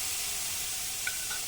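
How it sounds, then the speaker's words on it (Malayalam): Fried rice with tomato sauce and scrambled egg being stirred in a hot pan: a steady, close sizzle with a couple of faint clinks of the utensil near the end. "നന്നായിട്ടൊന്ന് ഇളക്കണം"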